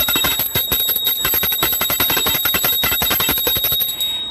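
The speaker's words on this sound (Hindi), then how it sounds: "ऐसे ton ton ton ton ton ton करके वो घंटी बजाने लगा।" A bell rung rapidly and repeatedly, a steady string of bright metallic dings that stays loud and close for over four seconds with no talking over it.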